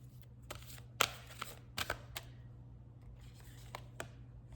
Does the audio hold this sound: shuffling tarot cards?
yes